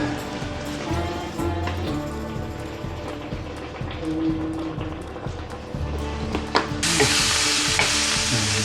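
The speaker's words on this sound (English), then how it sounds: "Frying a bit of halloumi cheese, something to go on top of the salad today." Halloumi cheese sizzles and spits in a hot pan, with a steady frying hiss, occasional utensil scrapes and a louder burst of sizzling near the end.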